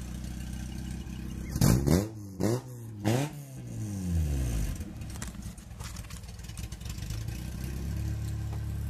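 An Acura Integra engine revs hard three times in quick succession, each sharp rising-and-falling sweep close and loud, then settles back to a rough, steady idle.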